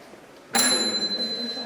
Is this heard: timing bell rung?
yes